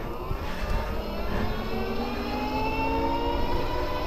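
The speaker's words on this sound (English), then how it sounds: "it's totally not silent like most hub drive bikes" A 2WD electric motorcycle made in New Zealand, with its front hub drive motor giving a steady, fairly loud whine that rises in pitch as it accelerates, with no talking.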